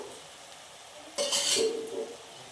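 Masala stirred in hot oil for a mushroom and green pea gravy: a faint low sizzle, then a sudden loud burst of scraping and spluttering fry for about a second before settling back to a steady sizzle.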